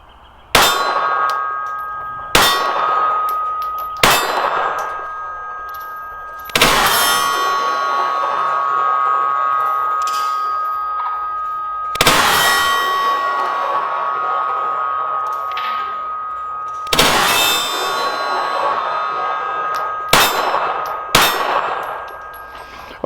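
Sharp metallic clangs ring out from a silver steel gong target struck by .380 rounds fired from a Glock, eight or nine hits at irregular intervals, each ringing on and fading before the next.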